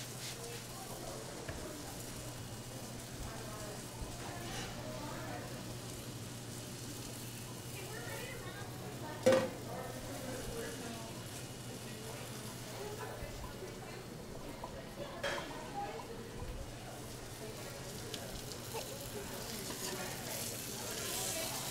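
Chicken pieces for chicken cacciatore searing in a pan, giving a steady, moderately quiet sizzle that runs throughout, with a few clatters and scrapes of kitchen work and occasional voice nearby.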